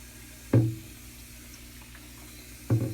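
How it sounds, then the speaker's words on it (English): Two short bursts of a spray bottle misting, close by, about two seconds apart against quiet background. "I'll give it a good spray."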